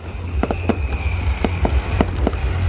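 Lunar New Year 2019 fireworks in Yen Bai, Vietnam, explode in a steady run of sharp, loud bursts, roughly eight distinct bangs over a continuous low rumble, with no voices.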